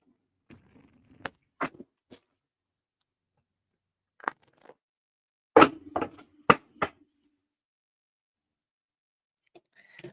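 A tarot card deck being shuffled during a live reading, with scattered papery riffles and taps, a busy cluster of snaps in the middle, and quiet pauses between them.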